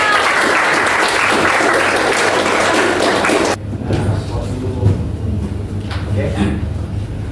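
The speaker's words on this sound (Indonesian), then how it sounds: "Tepuk tangan untuk kelompoknya Dama." Students in a classroom applaud a student group, a burst of loud, dense clapping that cuts off abruptly after about three and a half seconds, followed by low room noise with faint voices and a few thumps.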